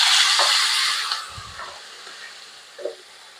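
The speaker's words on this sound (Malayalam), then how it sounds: "ഇതെല്ലാം കൂടെ നമുക്ക് ഇതിനകത്തേക്കിട്ട് മൂപ്പിച്ചെടുക്കാം" Chopped tomatoes and hot green chillies sizzle and fry in a pan for chicken curry, a steady close hiss that fades gradually, with a couple of soft stirring scrapes.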